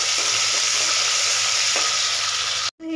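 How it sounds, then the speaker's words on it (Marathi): About an inch and a half of ginger and two green chillies fry in hot oil for a curd and potato curry. A loud, continuous close sizzle cuts off abruptly near the end. "हे आपल्याला व्यवस्थित फ्राय करून घ्यायचं."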